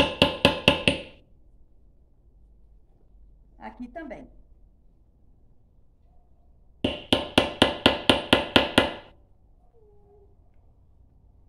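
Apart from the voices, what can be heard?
hammering feet onto ceramic pot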